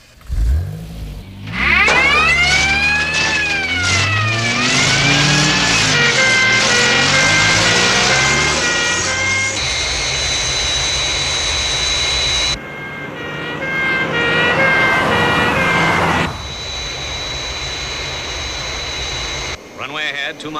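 Crash tender fire vehicles roll out toward runway 29 as an aircraft makes its approach, a loud continuous engine roar with rising revs and whining tones, overlaid by siren-like wails and jet noise.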